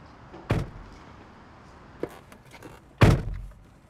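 A car door slams twice: a solid thud early on, then a louder, heavier slam a few seconds later. Both are close, with a quiet background between them.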